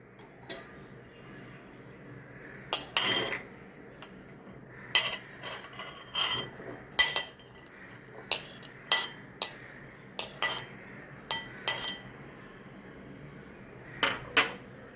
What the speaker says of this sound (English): Now we will mix all the ingredients in a mixing bowl.